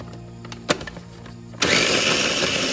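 After a few soft clicks and a low hum, a food processor grinding dry-roasted spices for Chettinad chicken starts abruptly and holds a loud, steady, coarse whir to the end.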